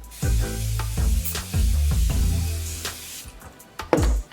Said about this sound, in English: So I'm gonna spray this all over my face.